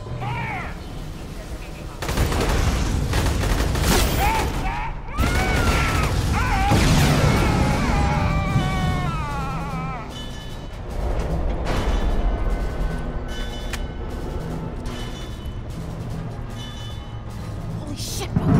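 Rapid video game gunfire, bursts of automatic shots and booms rattling through most of the stretch, loud and close, with frantic shouting and music-like tones mixed in.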